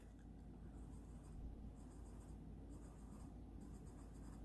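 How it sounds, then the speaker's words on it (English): Chalk or a marker scratches steadily on a board in a music theory lesson on triads and seventh chords. The strokes are quiet and continuous, in short bursts with a faint hum of the room beneath. "So I'm going to write G sharp"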